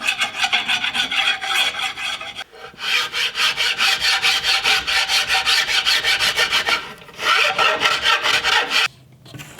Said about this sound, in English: This is my dull draw knife. Just slightly scrape off all the glue and